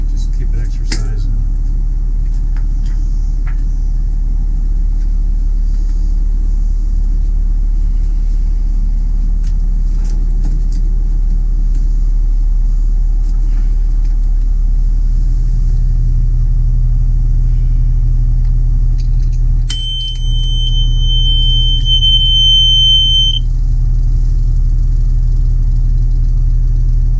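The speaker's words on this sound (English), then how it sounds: "we'll start the wing engine as well." The wing engine of a Nordhavn 50 boat runs underway, a loud, steady low diesel rumble that thickens partway through, with a short electronic tone near the end.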